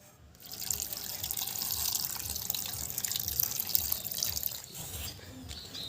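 Water pours and trickles steadily into a bowl where fig seeds are set to soak, a soft continuous running sound with a brief pause near the end and no voices.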